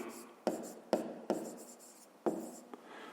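A math solution written by hand on paper: close, quiet pen strokes come in four or five distinct scratchy bursts, each starting sharply and fading, with soft pauses between.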